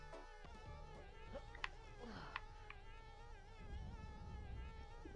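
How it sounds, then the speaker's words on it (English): Insect buzzing in the video game Conker's Bad Fur Day, a steady droning hum with wavering tones running throughout at moderate level, with a few brief sharper game effects on top. "And I think there are bees."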